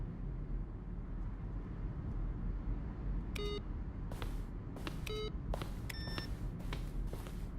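Electronic beeps and bloops from buttons pressed in The Stanley Parable office, several short tonal blips in quick irregular bursts over a steady low background hum.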